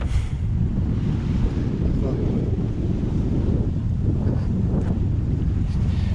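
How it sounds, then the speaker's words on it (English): Steady strong wind roars across the microphone aboard a sailboat off Martinique, a continuous low rumbling buffet with a faint wash of waves underneath, unbroken for the whole stretch. "Oh, the wind's coming back now."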